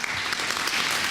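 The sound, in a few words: audience applause for a speech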